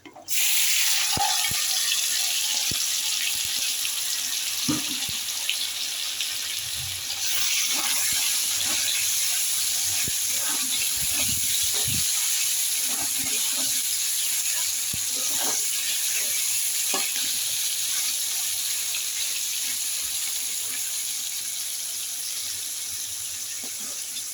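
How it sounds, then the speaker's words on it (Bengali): Chicken pieces for a potato chicken fry drop into hot oil in a wok and set off a loud, continuous hissing sizzle with scattered crackles and pops, easing slightly over the stretch, with no talk over it. "চিকেনগুলো এখন আমি দিয়ে দিচ্ছি কড়াইতে।"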